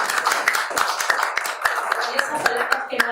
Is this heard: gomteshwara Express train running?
no